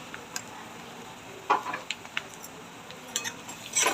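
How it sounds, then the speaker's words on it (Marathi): Chana dal bhaji being stirred in a pan as spices are mixed in, with a soft continuous sizzle and a few sharp spoon clinks and scrapes against the metal, close and fairly quiet. "छान प्रकारे मिक्स करून घेऊ"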